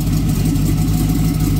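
A 4.8L LS engine that still needs tuning runs steadily up close, a loud, constant, deep droning idle with no pauses or talk.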